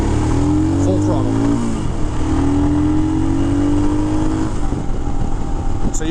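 Royal Enfield Himalayan motorcycle at full throttle, its engine climbing in pitch through two gears with a shift in between, loud and close over heavy wind rush.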